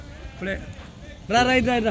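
Sheep bleat at a busy livestock market, a short call early on followed by a louder, sustained bleat near the end, with people talking in the background.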